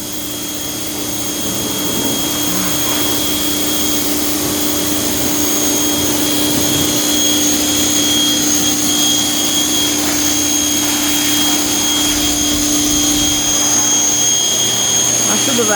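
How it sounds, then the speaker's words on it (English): A power washer runs in a steady, loud, close roar with a high whine that holds for the whole stretch, broken only by a few faint shifts. "Power washing, y'all."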